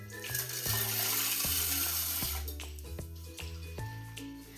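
Water pours and gurgles steadily off soaked horse gram in a vessel, a close, continuous splashing trickle with small bubbling shifts as it runs.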